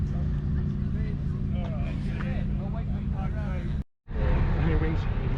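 The K20-swapped EJ9 Honda Civic engine revs hard with a loud, dense roar at the Santa Pod drag strip, cutting out briefly before roaring again while people talk over it.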